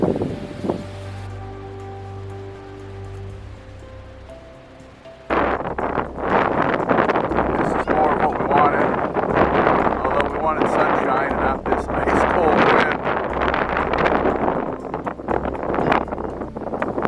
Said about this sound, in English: See how well you can hear the wind.